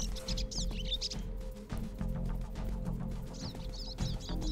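A small caged bird chirps in the video game Tamarin, bursts of quick high tweets at the start and end over a low steady game ambience and music.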